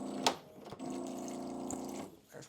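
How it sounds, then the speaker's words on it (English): Tap water runs in a steady stream onto dog food in a bowl, a continuous close hiss and patter lasting about a second and a half before cutting off, with a brief clunk beforehand. "I'm going to be putting water on this food"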